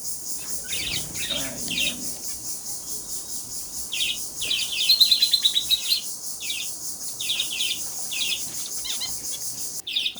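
Two finches, a newly bought male and a female, chirp in short, rapid bursts of high, bright tweets, repeated with brief pauses through the clip, close by and steady in loudness, alone with no talk.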